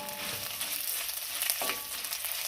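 Dried red chillies frying in hot coconut oil, a steady close sizzle with light crackle throughout, no talking.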